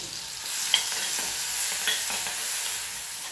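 Green chillies sizzle in hot oil in a pan while being stirred for a fasting dish, a steady close hiss with a few soft scraping clicks and no talking.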